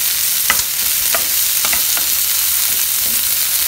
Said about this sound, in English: In the same pan, add in the garlic cloves, the ginger which is chopped, and the onions, and give it a good